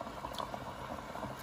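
Hotpot broth made with Sichuan green pepper bubbles steadily in a simmering pot, giving a continuous close boiling patter with no talk.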